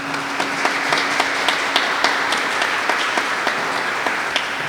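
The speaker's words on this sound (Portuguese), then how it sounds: "Eu convido você a dar uma grande salva de palmas à palavra do Senhor." A church congregation applauds the word of the Lord with a long, steady round of clapping, a few sharper individual claps popping out rhythmically over the dense, even mass of hands.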